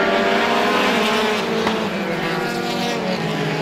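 Race car engines roar steadily at high revs during a heat race on an oval track, a dense continuous drone of several cars, loud and close.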